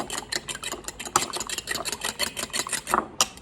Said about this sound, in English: I usually whisk it with the fork.